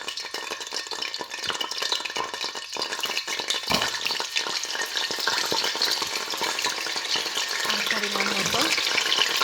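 Frozen garlic cubes fry in hot oil in a pan, a steady close sizzle that grows louder and denser over the clip, with faint clatter mixed in.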